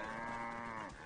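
A cow in the video game Assassin's Creed Origins lets out a single long, low moo lasting about a second, clear and fairly quiet, with no speech over it.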